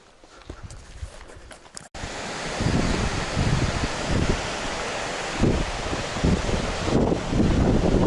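A river at a Yellowstone swimming spot in Wyoming rushes with a steady, full roar. Gusts of wind buffet the microphone, and the sound starts quieter before swelling to a loud, continuous wash.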